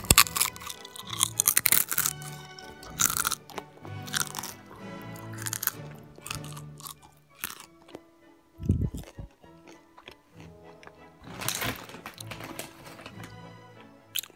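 Close, loud crunching and chewing of Tostitos Original Restaurant-Style corn chips, several sharp bites followed by bursts of brittle mastication with quiet pauses between.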